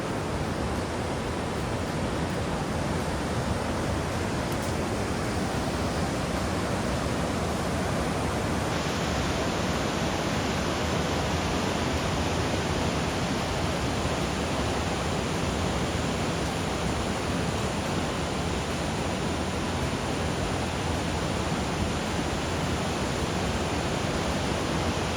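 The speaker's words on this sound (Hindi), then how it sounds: "कल कल कर बहती हुई आवाज़" A mountain river on the Madmaheshwar Kedar trek in June rushes in a dense, continuous broadband roar, steady and loud with no variation or voices over it.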